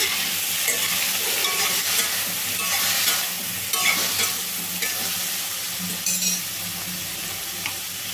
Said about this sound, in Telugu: 1 నిమిషం పాటు హై ఫ్లేమ్లో అయితే కలుపుకోవాలండి